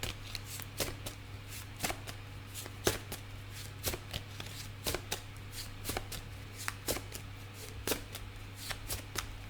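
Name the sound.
shuffling tarot cards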